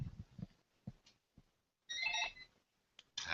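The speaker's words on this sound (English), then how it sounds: "I've just got a phone call, Aaron." An incoming call on a phone, a short bright ringtone burst preceded by soft scattered knocks and thumps, then a second ringtone burst starting at the end.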